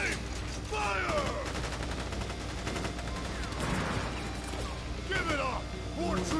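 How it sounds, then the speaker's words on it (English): A firing squad's volley in Final Fantasy 7 Crisis Core rattles out as rapid overlapping gunfire amid battle noise, with shouted voices over it. "Ready, aim, fire!"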